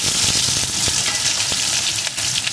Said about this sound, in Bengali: আলুটাও আমি লাল লাল করে ভেজে নেব।